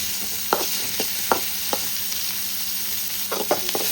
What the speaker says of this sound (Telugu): ఇలా తిరిగి బాగా వేయించుకోవాలి